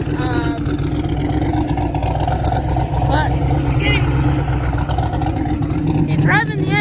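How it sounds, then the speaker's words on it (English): A 1956 car's engine revving with a misfire, a loud continuous rumble with uneven surges that fills the whole clip, while people talk over it. "he's revving the engine up"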